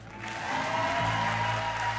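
Applause from a church congregation at a live Sunday service, rising quickly into a full, sustained round of clapping while steady musical tones sound underneath.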